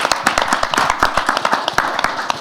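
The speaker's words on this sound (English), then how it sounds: "why don't we just give them a round of applause?" Audience at a startup panel event giving a round of applause, a close, moderately sized group of hands clapping in quick irregular bursts for a couple of seconds, with no talk over it.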